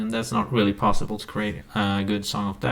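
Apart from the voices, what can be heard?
No everyday noises stand out.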